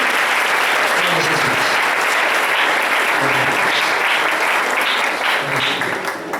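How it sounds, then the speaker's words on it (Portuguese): A church congregation gives loud, sustained applause, a thick continuous wash of many hands clapping, with faint voices and cheers mixed in throughout. "Você pode dar uma linda salva de palmas ao Senhor"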